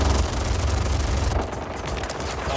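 Dense, loud machine gun fire in Mortal Kombat 11 rattles continuously for about a second and a half, then carries on somewhat lighter and steady without a break.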